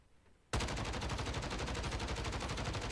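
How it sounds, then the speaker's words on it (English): Weapon fire in the video game Warzone: after half a second of near silence, a sustained, loud automatic burst of rapid shots runs without a break to the end. "So let's go ahead and fire the weapon, and we'll get a generic recoil pattern."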